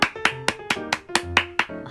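Applause sound effect with about nine distinct, evenly spaced claps, crisp and close with short ringing tails, alone with no talk.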